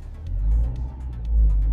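A diesel car engine idling and then revved a little while parked, with a diagnostic tool plugged in during a particulate filter regeneration, giving a loud, close, low rumble that rises and dips.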